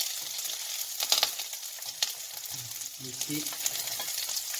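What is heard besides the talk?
asparagus frying in butter in a pan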